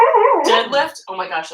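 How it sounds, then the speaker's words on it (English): A sleeping pet dog dreaming lets out a drawn-out, wavering howl and whimper, close and loud, over a person speaking during a strength workout. "that's my dog dreaming. Did you hear that?"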